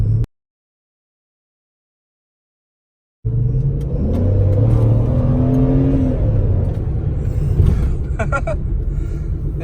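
A 2005 Chrysler 300C starts a pull after a brief silence, its engine rumble rising in pitch as it accelerates, heard from inside the car with steady road and wind noise.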